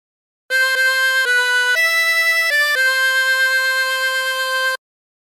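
Harmonica plays the tune Aura Lee without bends, a clean sequence of sustained reedy notes stepping between pitches, loud and close, with no talking.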